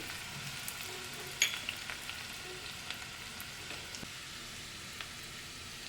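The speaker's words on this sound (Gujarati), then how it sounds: "લસણ સરસ સતરાઈ ગયું છે" Garlic sautéing in hot oil for a Gujarati-style dal fry tempering: a soft, steady sizzle and hiss with a few faint crackles, low and fairly quiet throughout, no voices.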